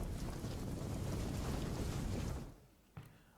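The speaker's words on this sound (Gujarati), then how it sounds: "ભારે પવન સાથે આ વરસાદ આવી રહ્યો છે" Heavy wind-driven rain during a monsoon downpour in Bhavnagar, Gujarat, roars as a dense, steady rush for over two seconds, then drops away sharply, leaving a faint hiss and one brief knock.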